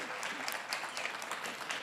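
An audience at an electric cooperative's annual meeting applauds in steady, even clapping, heard from a distance at low volume without a break.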